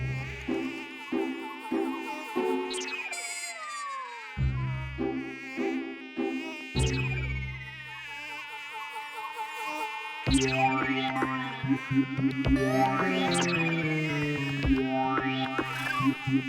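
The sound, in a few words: mosquito buzzing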